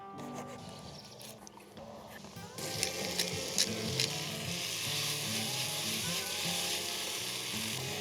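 Steak, peppers and onions for Philly cheesesteaks sizzle on a hot cooking surface outdoors, the frying hiss swelling louder partway through with a few sharp pops and scrapes under faint background noise.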